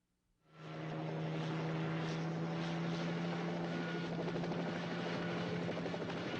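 A helicopter in a video game rises from near silence into a loud, steady rotor drone with a constant low hum and a pulsing chop, sustained close-up without any talk.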